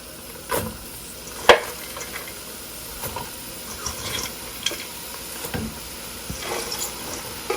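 Shredded cabbage stir-fried for chicken and shrimp chow mein, crackling in a constant sizzle, with occasional clanks and scrapes of a utensil moving it around the pan, close up and with no talk.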